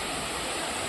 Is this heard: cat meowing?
no